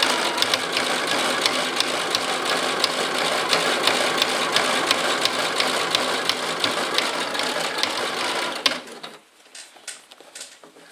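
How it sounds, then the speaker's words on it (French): A sewing machine runs a rapid, even stitch through a pillow cover with a hidden zipper for about nine seconds, close and loud, then stops abruptly, leaving faint clicks and handling sounds. "Et je fais un point de machine."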